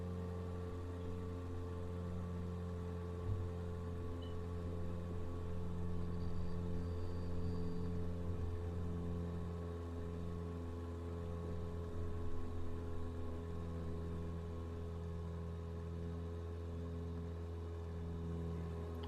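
Simulated aircraft engine in Microsoft Flight Simulator, a steady droning hum with strong buzzing harmonics like a small piston engine, held at an even level throughout with slight wavering, no talk.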